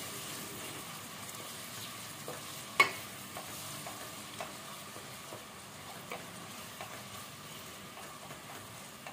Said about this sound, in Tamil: வெங்காயம் நல்லா பொன்னிறமாக வறுத்துக்கலாம்.